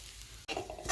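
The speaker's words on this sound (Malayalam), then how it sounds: "ചേർത്തിട്ട് ഇപ്പോൾ തേങ്ങയിലേക്കിട്ട് നല്ലപോലെ ഒന്ന് വറുത്തെടുക്കണം." Grated coconut frying in a pan with a little oil, a soft sizzle under brief scraping stirs, faint and close, lasting only a moment.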